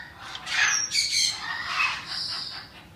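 Parrots squawk and screech in loud, harsh bursts, several calls overlapping across a few seconds with chirpy high notes, close by with no talking.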